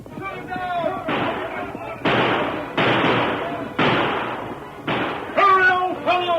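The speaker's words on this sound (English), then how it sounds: "The startled band of horsemen emptied their guns at him" Gunfire in an old-time radio drama as a band of horsemen empty their guns at a masked rider: six or so heavy, booming shots at roughly even intervals, with a voice and hoofbeat-like sounds around them.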